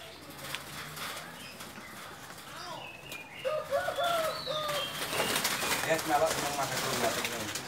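Caged birds at a bird seller's place coo and call in short repeated phrases amid background chatter and rustling, with wing flaps and other birds mixing in as people talk nearby.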